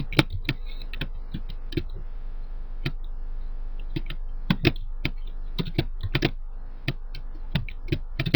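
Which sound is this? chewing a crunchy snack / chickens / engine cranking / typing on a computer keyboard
typing on a computer keyboard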